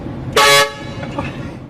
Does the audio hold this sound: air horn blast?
yes